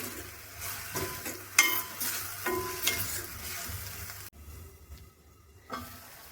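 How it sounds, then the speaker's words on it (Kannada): Tomatoes for sambar sizzle in a pan as a utensil stirs them, with a close crackling fry and irregular scrapes and clinks against the metal, then a short quieter stretch near the end. "ಟೊಮೊಟೊನ ಒಂದು ಸ್ವಲ್ಪ ಸಾಫ್ಟ್ ಆಗೋವರೆಗೂ ನಾನು ಇದರಲ್ಲಿ ಫ್ರೈ ಮಾಡ್ಕೊಳ್ತೀನಿ"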